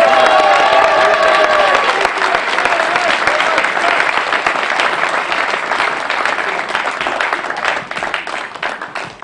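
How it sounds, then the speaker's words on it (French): Thunderous applause from a crowd at a political rally meeting, dense clapping with some cheering that stays loud throughout before tapering slightly at the end. "Un tonnerre d'applaudissements s'il vous plaît pour Sébastien."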